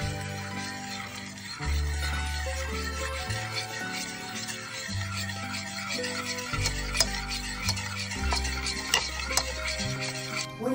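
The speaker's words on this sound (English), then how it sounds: "turn the burner to low and slowly stir until they're combined" Coconut cream sauce slowly stirred in a saucepan over a low burner, a spoon scraping and swirling in steady repeated strokes with a soft simmering hiss underneath, fairly close and alone with no talk.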